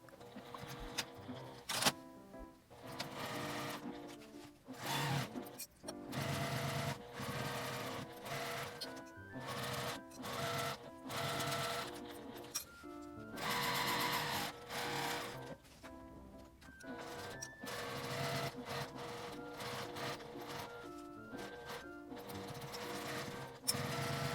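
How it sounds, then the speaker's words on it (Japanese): A sewing machine whirs in repeated close, steady runs, broken by short pauses, as it stitches around the edges of a fabric mini shoulder tote bag with a 1 cm seam allowance. "返し口を開けて1センチの縫い代で周りを縫います。"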